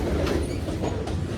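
A Union Pacific freight train rumbles steadily past up close, its mid-train DPU locomotive droning loud under continuous rolling wheel noise.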